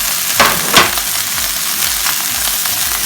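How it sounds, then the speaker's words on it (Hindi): Onions frying with dry spices in a pan give a steady close sizzle, broken by two brief louder stirring scrapes near the start. "प्याज को थोड़ा सा भूनेंगे और साथ ही सूखे मसाले शामिल करेंगे"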